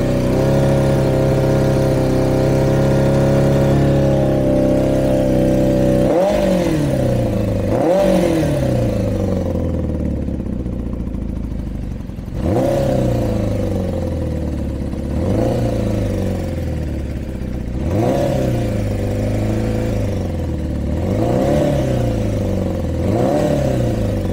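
Kawasaki Zephyr motorcycle engine revving repeatedly during carburettor synchronisation, a loud close idle broken by a series of quick throttle blips that rise and fall back.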